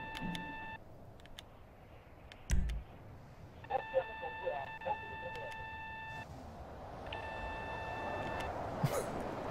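In a GTA 5 Online heist mission at the Humane Labs, an electronic alarm beeps in repeated multi-tone bursts that stop and restart, with gunfire thumps and muffled game noise beneath.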